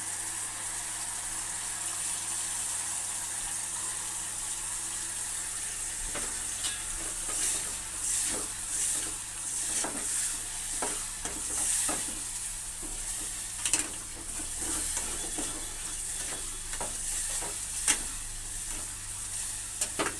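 Puliyogare powder added to tamarind paste cooking in a pan, stirred with repeated scraping strokes over a steady low sizzle, close and moderate in level.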